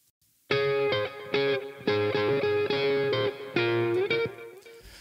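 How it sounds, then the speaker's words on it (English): A distorted guitar melody played through two delay effects in a row, in short repeated notes, each followed by echoing repeats that blur together and trail off at the end. "so two delays in a row doing different things."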